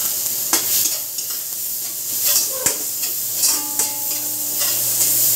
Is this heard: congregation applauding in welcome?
no